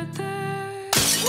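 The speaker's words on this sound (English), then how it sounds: "You smashed a wine glass with your bare hands" A wine glass shatters under bare hands in a tense domestic scene, a sudden bright crash bursting in near the end after a sustained tonal hum.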